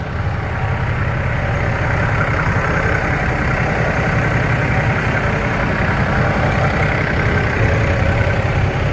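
5-ton military truck with its diesel engine running, a steady low rumbling idle close by, unbroken for several seconds with no talk.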